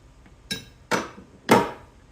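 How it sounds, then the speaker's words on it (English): Three sharp metallic hammer strikes on a vehicle's fan clutch ring out close by, evenly spaced, each with a short bright ring. "you're gonna hit it with a hammer like this"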